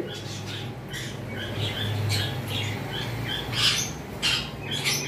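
Exhibition English budgerigars, a large-sized breeding pair, giving repeated squawks and chirps close by in a cage, with a steady low background hum underneath.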